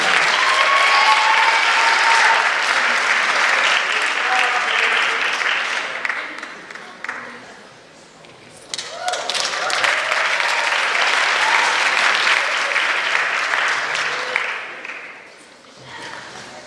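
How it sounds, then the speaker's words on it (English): An audience at an evening awards tribute applauds an honoree, a loud, sustained wash of many hands clapping that fades briefly near the middle, swells again, then tapers off at the end. "Can we have one more round of applause for her?"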